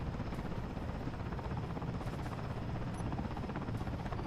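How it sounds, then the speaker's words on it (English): A helicopter arrives in the video game Space Engineers with a steady thudding rotor drone and a whining engine hum, moderately loud and continuous, and nobody speaks over it. "I hear the chopper arriving"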